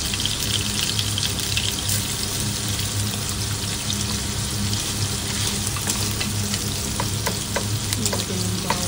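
Garlic sizzles loudly in a hot pan with pork and shrimp fried rice, a dense, constant crackling hiss heard up close with occasional scraping, and no voices.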